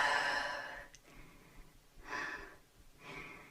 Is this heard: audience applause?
no